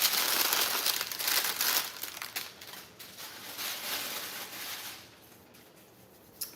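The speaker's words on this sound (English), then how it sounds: "So let's use this new parchment paper." New parchment paper crinkles and rustles as it is handled in a home kitchen. Loud bursts of crackling come first, then the sound eases into softer, intermittent rustles.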